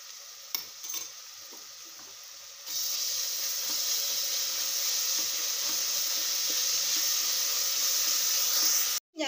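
Ginger garlic paste for beef curry hits a hot pan after a few soft clinks, then sizzles with a steady, loud frying hiss that keeps going until a sharp clatter at the end.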